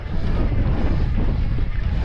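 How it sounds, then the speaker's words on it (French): Wind roars steadily across the microphone while riding an electric-assist mountain bike on a trail circuit near Sunbilla, heading straight into the wind; a loud, continuous low rumble with no talk. "et là je suis face au vent"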